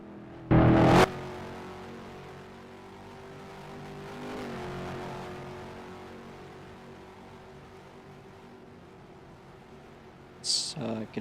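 Race cars circle the Sebring circuit in a racing video game, a steady engine drone holding through the whole stretch, with a loud burst near the start and another brief one at the end.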